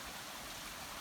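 Steady broadband rush of flowing water, like a creek running over rocks, continuous and fairly close with no voices.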